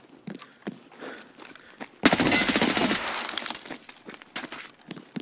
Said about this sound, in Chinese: 刚进北山酒店就听到枪声